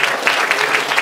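At a Korean church ordination thanksgiving service, the congregation gives a short burst of sustained, even applause with a faint rhythmic pulse running through it.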